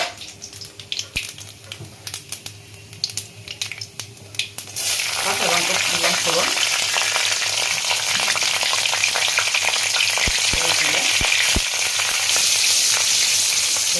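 Black cumin seeds hit hot oil while preparing mustard-paste hilsa, bursting into a loud, continuous sizzle after a few seconds of quieter clinks and stirring, with no talk over it.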